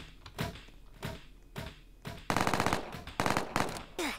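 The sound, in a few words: gunfire in Roblox video game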